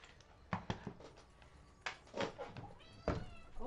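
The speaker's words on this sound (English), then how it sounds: "That's why you're meowing at me." A pet cat meows several times at close range, short insistent calls spaced irregularly, with small handling and household noises between them.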